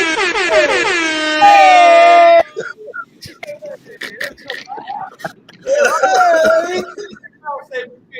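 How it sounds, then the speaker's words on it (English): Loud, blaring air horns sound in two long blasts separated by a gap, with excited talking and shouting in between. "Let them air horns go"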